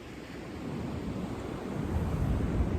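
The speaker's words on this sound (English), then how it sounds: "let you have some ocean sound in" Ocean waves wash steadily in a continuous broadband roar, mixed with wind buffeting the microphone, gradually swelling louder with no voices.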